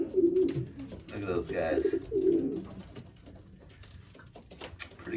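Young racing pigeons on their first flight outing give soft cooing calls, close by and mixed under a man's speech, with the cooing clearest in the first half before the calls thin out.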